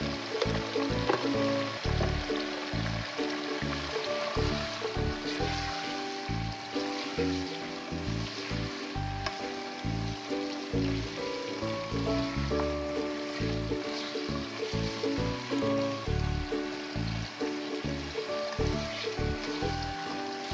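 Chicken fries with ginger garlic paste in a pot, a dense continuous sizzle with frequent stirring scrapes, close and steady for the whole stretch.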